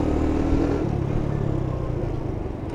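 A SYM Symba motorcycle rides through Lower Manhattan, its engine a low rumbling drone that pulls through gear changes while gathering speed, heard close and steady with no talk.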